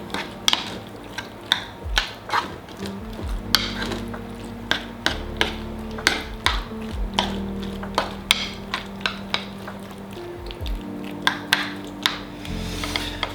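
A spoon stirring and scraping ingredients in a bowl for a basic home-cooked dish, with repeated close taps and knocks against the bowl's sides and soft squishy rubbing in between, heard alone at a steady, uneven pace.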